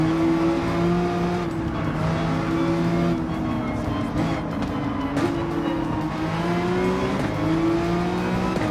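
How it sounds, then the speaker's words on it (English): An Aston Martin V12 Vantage races in Gran Turismo 7, its V12 engine droning loud and close throughout with steady harmonic tone and shifting pitch as revs rise and fall, with faint tire noise. "That V12 Vantage sounds quite gnarly."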